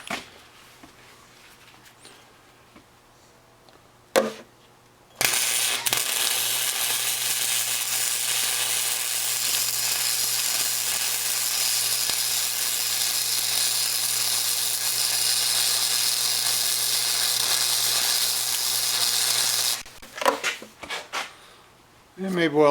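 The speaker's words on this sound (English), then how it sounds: "get a bit of weld on the back side" Welding a bead on the back of steel steering linkage for a tiller boat motor: a loud, steady electric crackle and hiss lasting about fifteen seconds, with brief clanks before and after.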